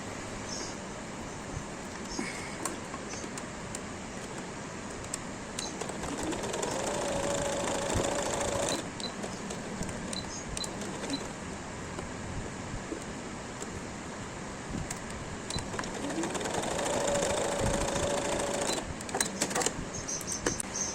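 A sewing machine stitches the shoulder seams of a baby frock in two sustained runs of rapid, even needle clatter. Between the runs come quieter pauses with small handling clicks.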